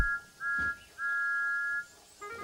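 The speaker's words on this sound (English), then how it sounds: "The two were interrupted by the whistle of Thomas the Tank Engine, who huffed angrily into the station, blowing steam everywhere." A steam locomotive whistle, from Thomas the Tank Engine, gives several sustained tonal blasts with short breaks between them, fairly loud over a quiet background.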